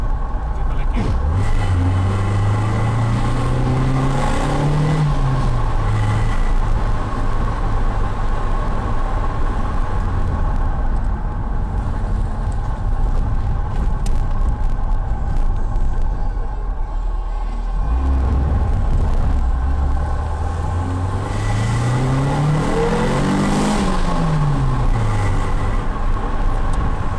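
Fiat Tempra 2.0 16v with a sport air filter and stainless exhaust tip revving hard, engine pitch climbing and falling in two long pulls, loud and close with a steady road rumble and voices talking over it.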